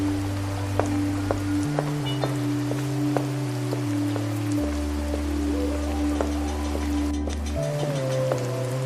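Steady rain falls continuously with scattered sharp drops, over a low sustained tone throughout.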